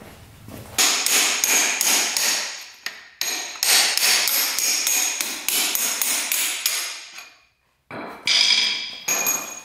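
Steady, rapid claw hammer strikes on metal parts of a cheap $600 dirt bike, loud and close with a sharp ringing tone, carrying on in a long run with a brief pause near the end.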